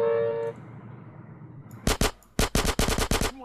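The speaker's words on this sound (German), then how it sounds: "Ich schieße jetzt einfach mal alle ab." Rapid bursts of gunfire from the video game GTA San Andreas during a gang fight, several sharp loud volleys in quick succession after a quieter stretch with a faint tone at the start.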